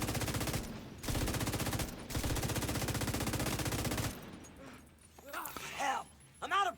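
Minigun firing in a video game, a loud continuous buzzing stream of rapid shots in long bursts with brief pauses, then cutting off into quieter game sounds and a voice.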